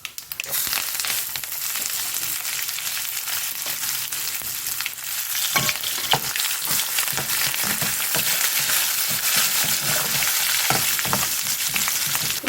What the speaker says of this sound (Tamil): பூண்டு நல்லா செவக்க வறுக்கணும்